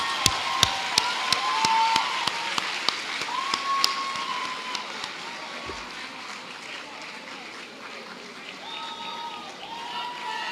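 Audience applause at a university graduation ceremony, a steady patter of many hands clapping that rises at the start and carries on to the end, with faint voices around it.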